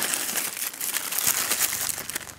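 Crisp paper packing material crinkles and rustles inside a large, heavy parcel of electronics as it is handled. The dense, continuous crackling is close and steady, with no talk over it.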